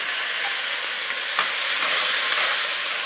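Onions and garlic frying in a pot for beer-braised beef give a steady close sizzle and crackle that holds at an even level, with a few soft clicks and stirring scrapes and no voices.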